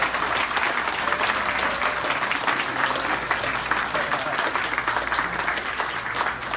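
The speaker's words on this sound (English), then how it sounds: "let's give the construction craft workers one more round of applause" Steady, dense applause from a crowd at a completion ceremony for construction craft workers, loud and continuous throughout, with a faint murmur of voices underneath.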